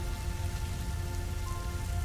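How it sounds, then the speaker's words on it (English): Rain drums steadily on the ground in a dense, even hiss of drops, continuous and moderately loud, with no voices or other sounds over it. "the rain drumming a steady rhythm on the ground"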